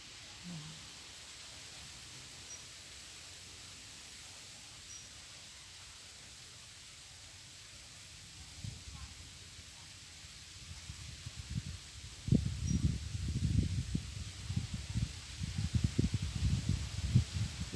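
Cold wind gusting outdoors beside a rising river, a steady hiss that swells into louder, rougher buffeting gusts toward the end, close to the microphone.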